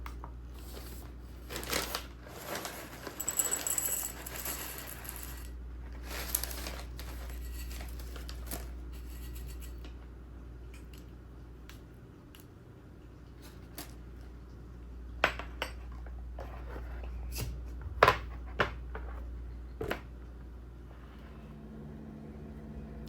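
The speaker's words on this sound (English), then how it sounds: "let's get the cereal measured out" Dry cereal poured and scooped from a bag for a keto diet, giving irregular rustling, clinking and crinkling bursts close by, with quieter gaps between handfuls.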